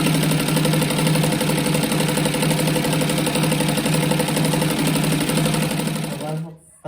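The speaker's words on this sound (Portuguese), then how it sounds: "Aqui eu faço mais uma costura do lado dessa primeira costura." A sewing machine stitches a pineapple-pattern rug in a steady, fast mechanical whir and rattle that runs at close range almost throughout, then winds down and stops near the end, with a voice speaking over it.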